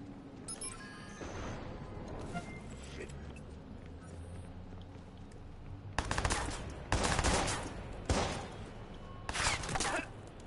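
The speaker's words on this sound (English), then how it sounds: "Wait, who's shooting me?" Video game gunfire: bursts of loud automatic shots crack out in the second half, after a stretch of muffled game noise and rumble, with a player talking during the clip.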